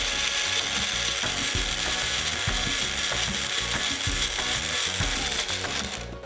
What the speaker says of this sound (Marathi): यामध्ये थोडंसं पाणी घालूया आणि वाटण करून घ्यायचं